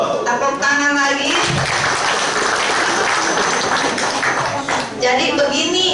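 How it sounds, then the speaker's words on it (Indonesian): Audience applause at a workers' rally in Surabaya: dense, loud clapping from a crowd fills the whole stretch, mixed with cheering voices and a speaker talking over it. "Tepuk tangan lagi"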